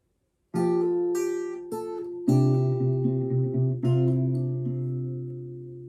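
Fingerpicked acoustic guitar plays a short passage from a song's intro, individual plucked notes ringing together into sustained chords, clear and close with no voices.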